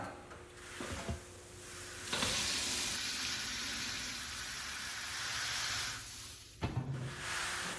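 Malted grain is stirred into hot strike water at about 162 degrees for a rye IPA mash, producing a close, continuous grainy rustle and hiss with a couple of knocks against the vessel.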